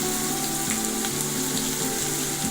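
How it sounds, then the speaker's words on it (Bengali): Onions, salted, frying in a pan, giving a steady, dense sizzle that holds at an even level throughout, with a faint hum underneath and no voices. "পেঁয়াজটা একটু লাল লাল করে ভেজে নিতে হবে।"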